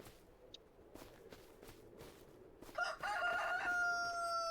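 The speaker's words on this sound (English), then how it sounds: "there's our rooster" A rooster crows in Farming Simulator 25 at a farm with a chicken house: a few soft taps and clucks at first, then one loud, close, drawn-out cock-a-doodle-doo filling the last seconds.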